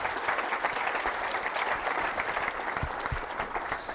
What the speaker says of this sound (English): Round of applause for Yan.